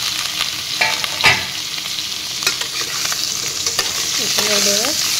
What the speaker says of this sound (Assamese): এতিয়া মই কাটি থোৱা ভাতকেৰেলা আৰু আলুখিনি দি দিম